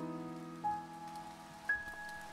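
Rain falling in the video game To The Moon, a soft, steady patter beneath sustained musical tones, with two faint brighter accents, no voices.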